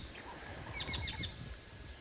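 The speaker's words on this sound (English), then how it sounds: "That's a woodland kingfisher alarm calling as well." A short burst of high, rapid woodland kingfisher alarm calls rings out from a distance over steady outdoor background noise at sunrise on safari.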